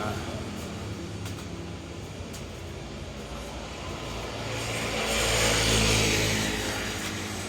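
A Honda XL 125 replica motorcycle engine runs at a roadside, its steady rumble swelling as it is revved, loud and close.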